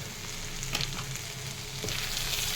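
Spices with turmeric and chili powder and salt sizzle as they are stir-fried in hot oil in a home kitchen, a steady hissing fry with occasional stirring scrapes, fairly quiet and without talk.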